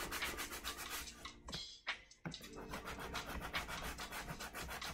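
Sandpaper glued to a small chunk of 2x4 wood block, rubbed back and forth in quick rhythmic strokes, a close raspy scratching with one brief pause midway.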